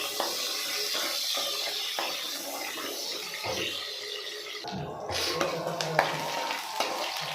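Curry leaves and onion, with cumin and mustard seeds, frying in a pan for a brinjal sambar, a steady close sizzle with stirring clatter and a louder scrape near the end.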